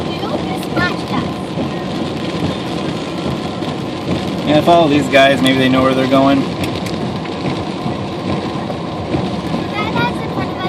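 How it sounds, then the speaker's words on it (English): Steady heavy rain and wind buffeting during a Fourth of July flood in Panama City, Florida, a constant wash of noise under people talking nearby, with a brief tonal horn-like sound midway. "I hope it stops raining."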